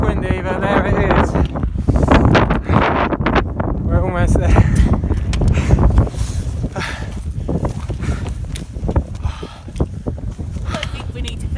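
Strong wind on the Appalachian Trail buffets the microphone in loud, continuous gusts, with a voice speaking faintly underneath the rumble.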